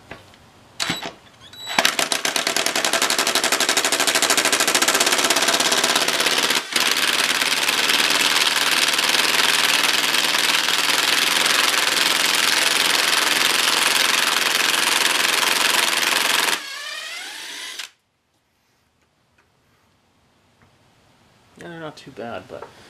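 A pneumatic impact wrench spins on a 1/2 inch bolt in a long, steady, loud whirring burst of about fifteen seconds, preceded by a few short taps and followed by quiet.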